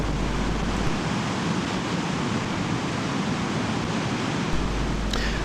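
Rough sea off the East Yorkshire coast, waves surging in a continuous loud wash of broadband noise with steady wind buffeting, no voices.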